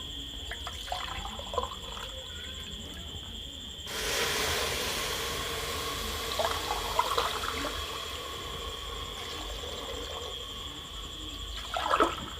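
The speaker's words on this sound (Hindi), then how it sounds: "अब इसमें हम डालेंगे पानी।" Water poured into a pan of rice that has been roasted for two to three minutes, a steady hissing rush starting suddenly and running on loud and close, with a bubbling sizzle under it.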